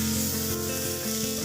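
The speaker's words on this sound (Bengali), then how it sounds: "তো এবার একটু হলুদ আর পরিমাণ মতো লবণ দিয়ে মশলাটা আমি খুব সুন্দর করে কষিয়ে নেব।" Bengali spice paste of mustard and poppy seed with turmeric and salt being sautéed in leftover fish-frying oil in a kadai, a close, continuous scraping sizzle with rubbing stir strokes.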